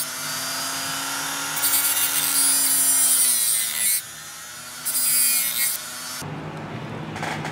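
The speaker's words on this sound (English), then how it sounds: "So to cut that slot, I'm gonna use a Dremel tool with a little cutoff wheel." A small high-speed Dremel rotary tool whines steadily, its pitch dipping as the cutoff wheel grinds a slot into a fishing lure in two long passes, then stops.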